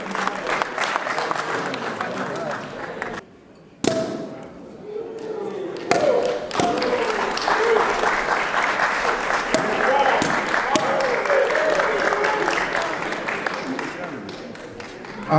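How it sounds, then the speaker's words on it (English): Audience applause at an evening gathering, a dense sustained round of clapping that breaks off briefly and then resumes with a few thumps, crowd noise and voices mixed in. "A round of applause for that little please"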